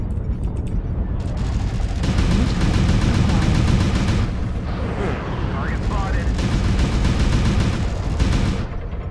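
Mech weapons fire repeatedly during a MechWarrior Online battle, with dense booms and gunfire bursts rumbling under a continuous roar while someone talks over the action.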